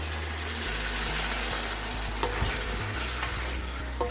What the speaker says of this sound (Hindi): अब इसमें हम चने को मिला देंगे।